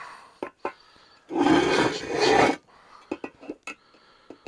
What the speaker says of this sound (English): Maybe I should scrape it off on the side there a little.